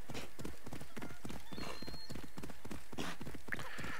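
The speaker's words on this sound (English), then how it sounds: "Grab your horse. Giddy up. And ride." Horse hooves gallop in Assassin's Creed Odyssey, a steady, rapid clip-clop that runs throughout at close range, with a brief whinny near the end.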